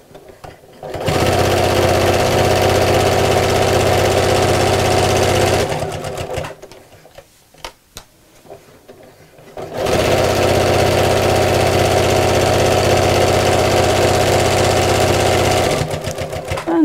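A sewing machine stitches straight across the folded edges of a picnic blanket in two long, steady, loud runs, broken by a pause of quiet handling in between.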